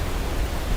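Steady broadband white noise study recording playing back from audio equipment, dense and even throughout with no pauses or voices.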